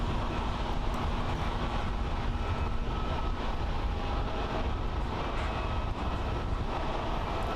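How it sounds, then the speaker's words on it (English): A Japan Airlines Boeing 737-800, sixteen years old, lands at Haneda Airport in Tokyo, its engines giving a steady, broad roar that holds through the whole stretch at moderate distance, with no talk. "There's Japan Airlines flight 690 coming in from KMI, a 1 hour and 25 minute flight aboard a Boeing 737-800"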